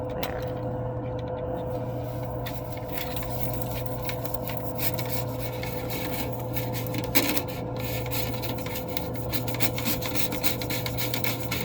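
A brush scrubs steadily inside a household dryer vent, giving a continuous rubbing, rasping scrape that stays level and close throughout with a constant low hum beneath it.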